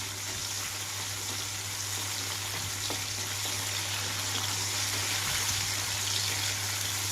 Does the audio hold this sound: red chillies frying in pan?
yes